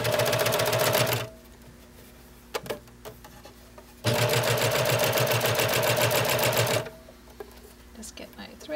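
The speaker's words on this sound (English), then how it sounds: "And under the foot it goes." A Baby Lock Evolution serger runs a coverstitch on Robert Kaufman Radiance fabric, whirring loud and fast in two bursts of about one and three seconds, with quiet clicks and handling noises between them.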